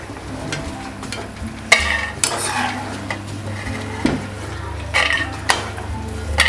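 Spicy maida biscuits rattle and clatter against a metal pan as they are stirred in hot frying oil, with repeated sharp scraping knocks over a steady low sizzle, close and fairly loud.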